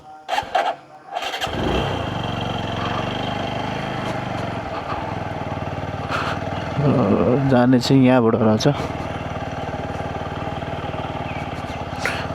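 A motorcycle engine idles steadily near a temple on a ride to Satakshi, then revs briefly partway through before settling back to its low hum, with people talking close by over it.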